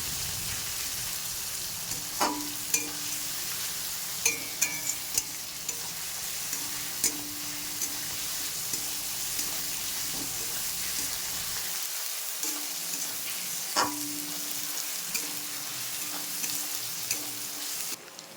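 Spice paste for a loitta fish curry fried and stirred in a pan: a steady close sizzle with regular spatula scrapes and taps throughout, the low background dropping away partway through.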